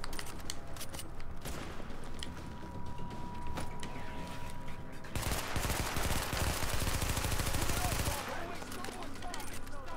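Gunfire in the video game The Division, with loud repeated bursts of automatic shots and mechanical clatter, a dense sustained barrage in the middle, and voices talking over it.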